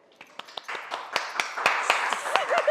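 An audience at a televised show claps: scattered sharp claps that start sparse and quickly thicken into louder, steadier applause.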